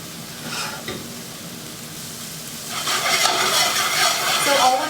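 Ricotta meatballs searing in a hot pan, a steady crackling sizzle that grows louder and busier midway as they are turned, with no talking.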